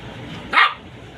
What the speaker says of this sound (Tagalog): tignan niyo yung aso kong kulit